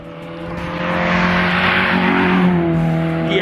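A Citroen Saxo VTR drives past close by, its engine note rising loud and steady as it approaches and passes over a few seconds, with no talking.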